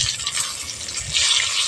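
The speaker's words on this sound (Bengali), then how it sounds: "আমি পুর ভরে পটলটা ভাজছি।" Stuffed pointed gourds (potol) fry in a pan with a steady, bright hiss and soft low knocks as they are turned, up close with no talk.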